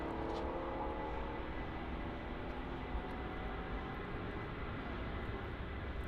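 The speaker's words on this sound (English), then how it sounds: "And now we have the Delta Airlines A330-200 takeoff." A Delta Airlines Airbus A330-200 takes off at Paris CDG airport, a distant, steady jet roar that holds at a low, even level for several seconds with no voices.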